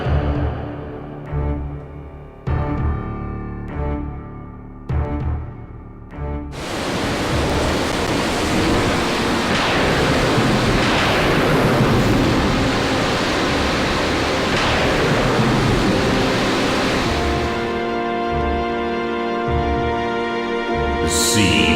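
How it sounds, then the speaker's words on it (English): Raging sea waves in the Final Fantasy video game, a loud, broad roaring wash of surf that swells in after a few short musical notes and holds steady before music returns. "The sea raged."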